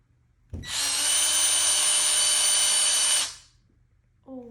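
A power drill bores into a living-room wall for mounting panels, one steady loud whine of about three seconds starting abruptly and cutting off, followed by a brief faint clatter.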